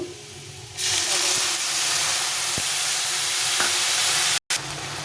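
Masala paste for an egg curry frying in hot oil, a loud steady sizzle and hiss that rises sharply and runs continuously, with a few faint scrapes of stirring and a brief drop-out near the end.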